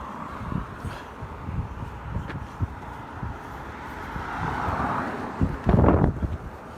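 Gusty wind buffets the microphone in uneven rumbling bursts, growing stronger toward the end, with faint traffic noise in the background.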